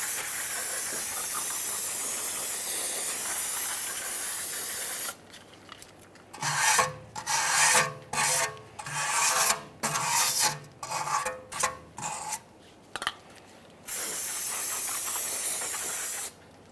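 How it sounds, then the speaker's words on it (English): A wire brush scrubs the wheel bearing hub mating surface on a 2009-2014 Nissan Maxima rear brake, rasping in short rhythmic strokes of about a dozen passes, loud and close between stretches of steady hiss. "Clean your wheel bearing hub mating surface here. Use a wire brush if necessary."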